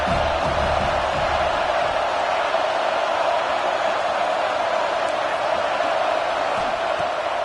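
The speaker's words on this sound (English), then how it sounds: "This crowd bringing the energy and noise early." A stadium crowd in NCAA Football 25 roars continuously at a steady level, a dense distant wash of cheering with no distinct peaks.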